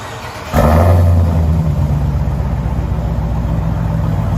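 A supercharged 6.2-litre Hemi V8 in a Jeep Trackhawk starts with a sudden roar, then settles into a deep, rumbling idle with steady exhaust burble, loud and close.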